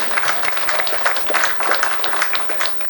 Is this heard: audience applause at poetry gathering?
yes